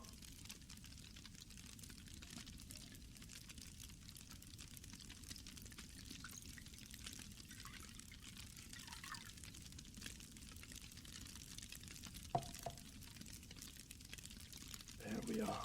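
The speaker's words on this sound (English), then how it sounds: "We are to pour the elixir" Liquid poured into a bowl gives a faint, steady trickle that runs under a quiet hiss for most of the stretch, ending with a couple of small clinks.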